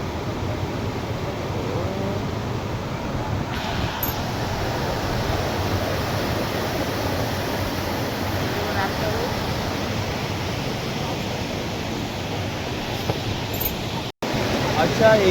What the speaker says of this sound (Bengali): এই যে ওয়াটারফলটা দেখাচ্ছে হচ্ছে জজুয়া ওয়াটারফল